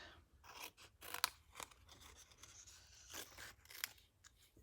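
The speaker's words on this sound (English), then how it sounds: "now let me cut around these and just leave a little border" Close, quiet snipping and crunching of scissors slicing through paper in short irregular cuts, with faint rustling between them.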